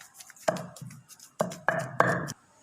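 Beef and lentils mashed in a pot with a wooden pounder, several close, heavy, dull thuds in an uneven rhythm with short gaps, fairly loud and without talk.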